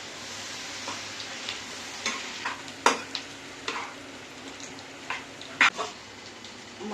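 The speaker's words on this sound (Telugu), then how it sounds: "బాగా వేగిపోతాయి." Biryani masala with chopped mint and coriander frying in a pan and being stirred, a steady sizzle broken by a few sharp scrapes and clinks of the spoon, fairly close, with no talk.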